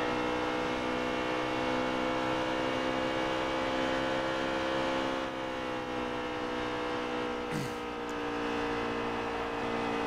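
A race car engine in the NASCAR Heat 3 video game at Charlotte holds a loud, steady high-revving drone throughout, with a brief pitch sweep near the end.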